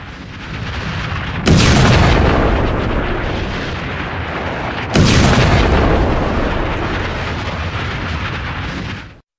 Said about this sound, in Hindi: वहां पर सीधी मिसाइल गिरती है और ये फिर क्या होता है, ये विस्फोट, धमक, बूम